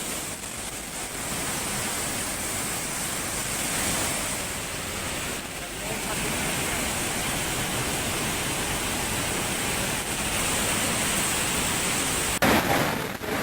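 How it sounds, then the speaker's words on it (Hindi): Floodwater rushes through a temple courtyard after heavy rain, a steady, dense broadband roar of moving water that continues without pause throughout. "ये सारा पानी का बहाव इस मंदिर के प्रांगण में भी है।"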